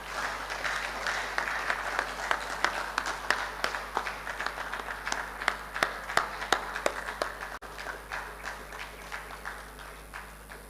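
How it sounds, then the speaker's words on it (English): Audience applause fills a hall at an investiture ceremony, steady dense clapping with scattered sharper claps, continuing throughout at moderate loudness. "Another wonderful round of applause for the outgoing president."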